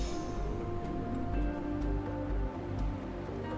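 Steady rain in the video game Wuthering Waves, a soft continuous patter with faint tonal music underneath, heard alone at low level without talk.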